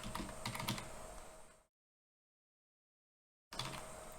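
Rapid, hurried typing on a computer keyboard during an online server game, dense clatter of keys near and fairly faint, cut off by about two seconds of silence before resuming.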